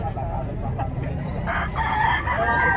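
Fighting roosters for sale at a market in Lipa City, Batangas, crow over a steady din of clucking fowl, with several birds calling close and overlapping amid constant background noise.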